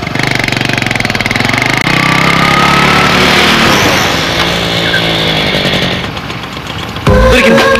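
A motorbike engine runs loud and close with a rough, buzzing idle that revs and steadies, then cuts to a brief different burst near the end; a voice speaks faintly underneath.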